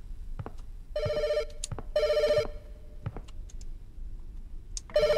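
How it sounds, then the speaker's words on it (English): A telephone rings in The Shadow Over Route 80, a gas-station game, sounding two bursts of bright electronic trilling with a third starting at the end, amid scattered clicks and light footsteps. "now the phone is ringing."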